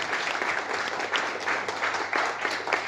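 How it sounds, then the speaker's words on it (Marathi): Applause from an audience of journalists at a press conference for a Marathi TV serial, a brief dense burst of clapping held at steady strength for a few seconds, with faint voices mixed in. "इथं टाळ्या जोरदार"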